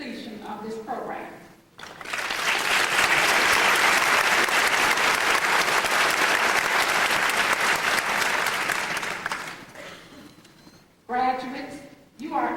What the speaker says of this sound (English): let's stop now and allow you to applaud yourselves for your successful